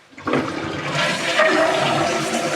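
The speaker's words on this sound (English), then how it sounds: "here is your last flush. Hold this down." A toilet flushes while a home or cabin's plumbing is being blown out with air for winter: a sudden rush of water swells and keeps churning and hissing loudly, alone and close.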